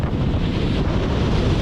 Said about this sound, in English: Conditions had now reached storm force, with winds gusting 50 knots.